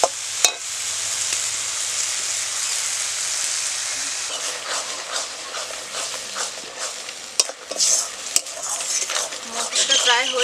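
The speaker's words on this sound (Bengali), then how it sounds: "চিকেনের মশলা হচ্ছে এখন কাঁচা লঙ্কা আর টমেটোটা কষা আছে, পরপর মশলাগুলো দেব।" Chicken masala with green chili and tomato sizzles and fries in a pan, with steady frying hiss, spoon scrapes and clinks of cookware, and a voice talking intermittently over it.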